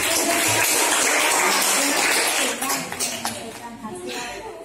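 Classroom applause from students after a group presentation at a junior high school, loud dense clapping that thins out midway, with voices mixed in.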